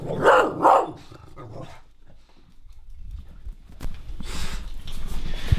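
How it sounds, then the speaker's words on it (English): Several dogs bark loudly in two close bursts at the start, then quieter rustling and movement sounds follow as the dogs settle nearby. "Here are the dogs."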